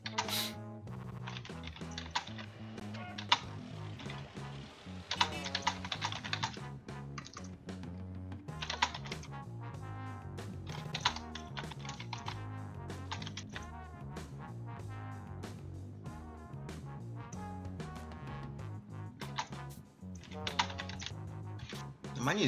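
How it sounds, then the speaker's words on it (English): Rapid, continuous typing on a computer keyboard, close and crisp, with dense bursts of key clicks and short pauses running throughout. "all you hear is my typing"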